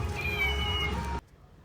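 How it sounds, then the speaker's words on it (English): A small toy kitty gives a single meow when pressed, a clear, close, drawn-out electronic meow that cuts off abruptly. "I also got this cute little kitty which makes a meow sound when you press it"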